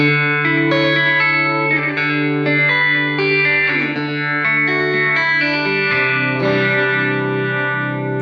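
Sustained electric guitar chords through an MXR Phase 95 phaser pedal with light distortion, a swirling, pulsing modulation, played alone and fairly loud.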